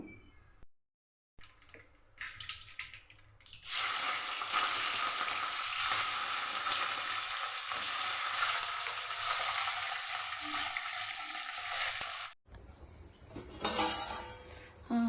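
Potatoes fry loudly for aloo rice in a home kitchen, a dense hissing sizzle that starts abruptly and holds for several seconds, with occasional stirring and pan clatter around it and no talking.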